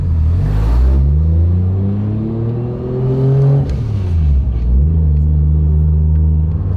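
A big-turbo 1JZ engine in a Toyota Chaser on a street test rumbles loudly up close, revving up and down in smooth swells with a low, throaty tone. No one speaks.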